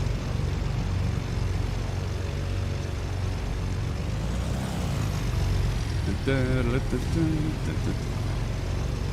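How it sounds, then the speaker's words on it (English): Twin-engine propeller drone of a simulated Black Square Baron 58 from a flight sim add-on sound pack, a loud steady rumble throughout, with a voice talking over it. "I've got the actual add-on sound pack for that plane."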